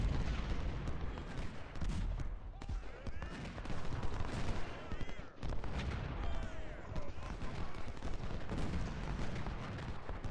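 Confederate artillery and musket fire in Ultimate General: Civil War, during the fall of Richmond, rolls on as a dense, steady barrage of overlapping shots and booms with a few sharper blasts standing out.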